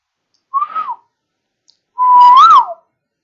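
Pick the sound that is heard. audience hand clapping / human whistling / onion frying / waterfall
human whistling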